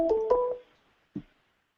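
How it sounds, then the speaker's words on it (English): A computer sounds an incoming call alert during an online meeting, two short electronic tones followed by a brief lower blip, faint and isolated against silence. "Sorry, my computer is ringing for some reason."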